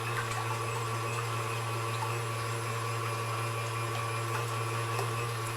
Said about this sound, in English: You start your eggs yolks going a little bit, get them a little frothy.